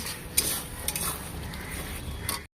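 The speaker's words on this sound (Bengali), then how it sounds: "তো চলো এটাকে এবার ভালো করে কষাই। মশলাটা একটু নেড়ে চেড়ে" Spice masala being stirred and sautéed in a pan before meat goes in, with close scraping and clinking of a utensil against the pan over a soft sizzle for a few seconds, then a sudden cutoff.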